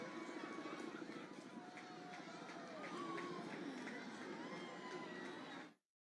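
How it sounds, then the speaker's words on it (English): A crowd gathered in Niagara for the 2024 total solar eclipse cheers and murmurs, a distant roar of many voices with scattered shouts that holds steady, then cuts off abruptly. "You can hear the crowd erupting at various moments when the eclipse has been seen"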